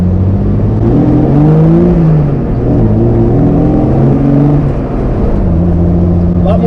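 A Jeep 4.0 inline-six with 195,395 miles, fitted with a BBK 62mm throttle body, revs loudly and close, its engine note rising and falling through several throttle blips over a continuous drone.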